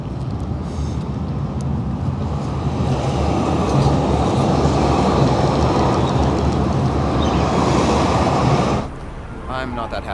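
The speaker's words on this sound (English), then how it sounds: "Okay, here comes the train." A train rumbles past on a foggy street in downtown Calgary, a loud, steady rolling roar with faint clatter lasting several seconds before cutting off abruptly, with some talk mixed in.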